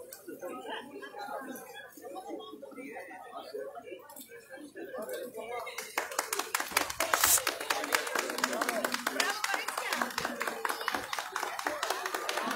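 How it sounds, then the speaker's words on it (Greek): A festival crowd applauds cultural clubs at a 40th-anniversary celebration of a cultural association in Iasmos, Thrace. Talk fills the first half, then dense, sustained clapping takes over and continues loudly to the end. "Κόσμος δεξιά και αριστερά υποστηρίζοντας τους συλλόγους, χειροκροτώντας τους."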